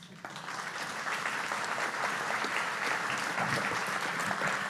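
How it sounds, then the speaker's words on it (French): A dinner-conference audience in Rennes applauds steadily throughout, a dense and even round of clapping from a fairly large room with no voices above it. "Il mérite bien les applaudissements."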